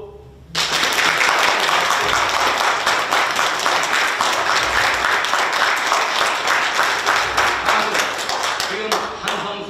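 A church congregation at Sunday worship bursts into loud, sustained clapping that starts abruptly and holds dense and even for about nine seconds, with voices mixed into the crowd.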